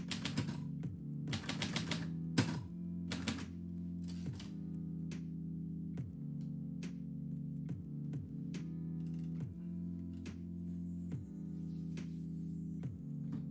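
A typewriter types out a poem, with rapid, irregular keystrokes and short bursts of clacking over a steady low hum, close and clear.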